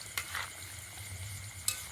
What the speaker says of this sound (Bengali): এবারে এগুলো ভেজে নেব